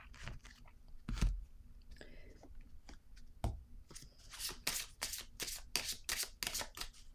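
A playing card is picked up and handled, giving a series of crisp flicks and papery slides, with a few soft thumps early on and dense rapid riffling toward the end.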